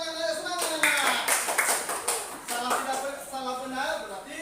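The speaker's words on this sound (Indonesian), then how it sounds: "tepuk tangan kelompok ketiga" Pupils in a classroom clap for a group of classmates in short, uneven bursts, with voices talking and calling out over the clapping.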